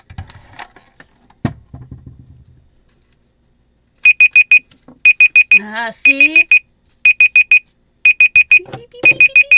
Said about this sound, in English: Tell me you guys heard that beep, beep, beep.